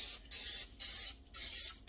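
Cooking spray hisses into a muffin tin's baking cups in four short, close bursts with brief gaps between them.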